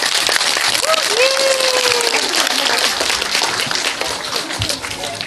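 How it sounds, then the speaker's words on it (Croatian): A cinema audience at a YouTuber fan screening in Split claps as a crowd, with voices, a rising whistle-like tone and shouting mixed in, loud at first and easing off slightly toward the end. "Jedan aplauz za Blodeka."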